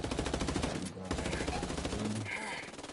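Heavy automatic gunfire in Ghost Recon Wildlands, rapid bursts of machine-gun shots rattling in quick rhythm across the clip, moderately loud and near, with a brief pause midway and faint game sounds underneath.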